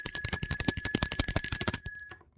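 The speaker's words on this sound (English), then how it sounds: "Let's ring the bell for that." A bright bell rings rapidly in a fast trill of repeated strikes, like a bicycle bell, loud and alone, stopping abruptly after about two seconds.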